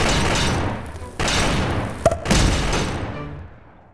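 Heavy weapon fire in Garry's Mod DarkRP, a continuous roaring barrage with a sharp thump partway through, loud and close, then fading out.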